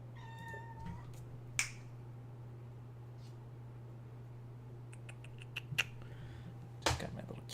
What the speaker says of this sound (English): Just got my little cat here.